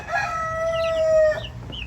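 Farmyard chickens, hens watching over baby chicks with a young rooster among them, give a drawn-out crowing call followed by a few clucks. The sound is close and fairly loud.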